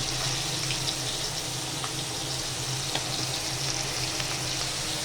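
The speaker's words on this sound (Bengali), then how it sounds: "এই যে কিছুটা মাছ ভাজা হচ্ছে, পাঙাশ মাছ একটুখানি ছেটে আমি সেজন্য চাপা দিয়ে রেখেছিলাম।" Pangas fish pieces fry in a pan with a steady, close hiss and crackle. The sizzle holds even throughout, with a low hum underneath and no voices.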